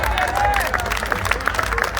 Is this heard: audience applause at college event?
yes